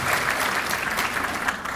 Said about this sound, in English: Give Bon Secours another round of applause.